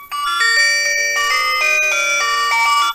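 Ringtone from a Clap RockClip big-button flip mobile phone: a bright electronic chiming melody of stepped notes that plays steadily and loudly for about three seconds, with no talking.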